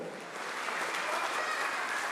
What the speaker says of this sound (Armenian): Ծափերը բարձր, եկեք ծափարենք,